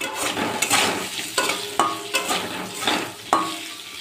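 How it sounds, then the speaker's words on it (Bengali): Cubed potatoes frying on high heat with salt and turmeric in a pan, a steady sizzle broken by repeated scraping stirs of a spatula, close and loud, without talk. "নুন আর হলুদ দিয়ে আলুটা একটু ভালো করে ভেজে নিচ্ছি"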